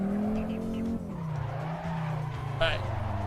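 Tires squeal and skid as a car drifts under the handbrake in the racing game Assetto Corsa, with a whining engine tone underneath and a voice talking over it.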